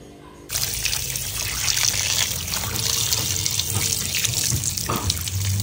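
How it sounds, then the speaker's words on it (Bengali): Desi chicken washed under a running kitchen tap, a steady close splashing stream of water that starts abruptly and continues throughout, with soft handling sounds in the flow. "তো তার জন্য দিদি চিকেনটাকে ভালোভাবে ধুয়ে নিচ্ছে"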